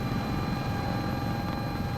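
Steady, droning rotor and engine noise from a helicopter flying in the video game Jurassic World Archipelago, continuous and even in level throughout, with no other sounds and no talk.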